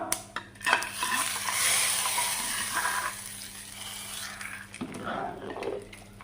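A burst of sizzling as hot tempering oil hits a brinjal pulissery curry, followed by stirring and faint clinks of utensils, with a low steady hum underneath.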